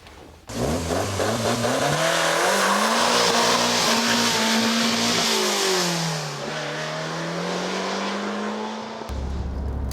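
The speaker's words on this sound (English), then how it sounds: "behind me, we have a Cosworth unit tuned to 360 brake horsepower mated to a Renault transaxle." A Ford RS200 with a Cosworth engine tuned to 360 brake horsepower and a Renault transaxle accelerates hard. The engine note climbs loud and close through the gears with a steady roar, dips briefly, then builds again.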